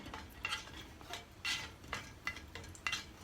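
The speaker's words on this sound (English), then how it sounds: "तो अब हम इसको सौटे करेंगे" Cardamom and cloves being sautéed in a pan make a series of sharp metallic scrapes and clinks from stirring, irregular and close, over a faint background.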